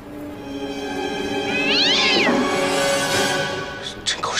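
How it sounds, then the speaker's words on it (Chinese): A cat meows in a scene from a Chinese television drama, one drawn-out wavering cry that rises and falls near the middle, followed by fainter sharp sounds over a low background hum. "一听到猫叫，我心里跟挠似的"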